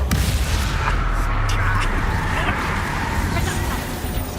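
Confringo blasting spell in the video game Hogwarts Legacy, a loud explosive burst heard amid continuous rumbling battle effects and background voices, dense and sustained throughout.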